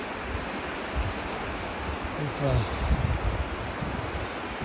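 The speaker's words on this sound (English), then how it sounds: "Water's flowing pretty good." North Fork of the Trinity River flowing strongly, a dense, steady rushing roar of water close by, broad and continuous with slight swells and faint wind buffeting the microphone.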